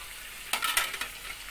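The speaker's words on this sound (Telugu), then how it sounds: "అది కాస్త ఫ్రై అయ్యాక మిగిలిన మసాలా ఇందులో వేస్తున్నాం." Chillies and tomato curry fry in a covered pan, giving soft sizzling and a few light stirring scrapes in short bursts, faint and close, with no voices.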